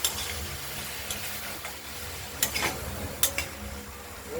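Thin-cut pumpkin sizzles in a wok as a utensil scrapes and stirs, with a few sharp metallic clinks against the wok.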